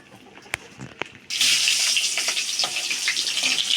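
Big prawns hit hot oil in a wok: after a quiet start with a few small clicks, a loud, dense sizzle bursts in and holds steady close by.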